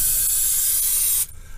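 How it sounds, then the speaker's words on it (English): Vegetable oil cooking spray hisses from an aerosol can into a crock pot in one loud, steady, close burst lasting over a second, then cuts off sharply, leaving faint room noise. "I'm gonna try vegetable oil and spray in there"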